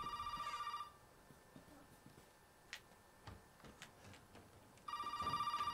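A telephone rings in the video game Resident Evil VII, with two bursts of electronic trilling at either end and quiet ticks and clicks in the gap between them.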